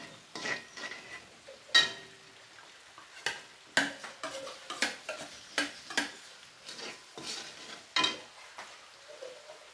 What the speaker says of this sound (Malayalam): മുളകും കൂടെ ഇട്ട് മൂപ്പിക്കുകയാണ്